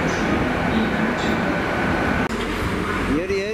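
A Class 150 diesel train pulls out of Cardiff Central station, a steady, fairly loud engine rumble with a rising tone at the end, under a voice.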